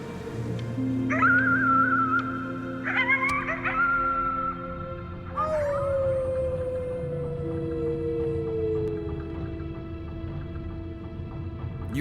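Coyotes howl in long rising and falling wails, several voices overlapping in a loud, close chorus that slowly fades into a drawn-out descending cry.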